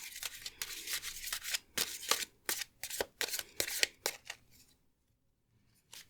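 Tarot cards being shuffled, a rapid series of crisp riffling flicks and slaps up close that fade to quiet, with one faint tap at the end.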